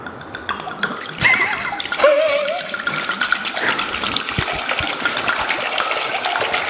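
Red wine is poured from a bottle into a vessel, a liquid gush and splash that begins abruptly and runs on with trickling and dripping, over faint background clatter.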